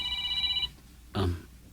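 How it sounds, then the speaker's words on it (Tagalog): A cellphone rings with an incoming call, a short electronic ringtone that cuts off and is followed by a brief thud, close and without talk. "may tumatawag sa cellphone ko"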